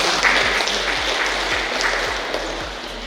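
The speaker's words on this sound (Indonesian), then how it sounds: "Tepuk tangan untuk COVID." Audience applause at a workshop on sago-derived products for food security, a steady wash of many hands clapping that holds evenly across the clip, alone with no talk over it.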